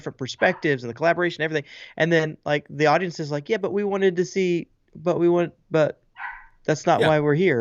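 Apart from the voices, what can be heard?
dog yipping in the background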